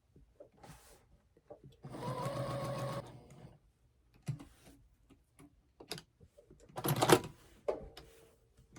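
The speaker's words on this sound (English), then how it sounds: "I'm going to sew it" Sewing machine stitching through fabric and interfacing for a pumpkin gingham quilt, heard in a steady burst of about a second, then a louder short run, with quiet handling noises between.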